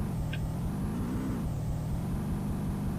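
A car engine in the NES game Days of Thunder drones in a steady, low, buzzing rumble with a slight rise and fall in pitch, continuous and alone throughout.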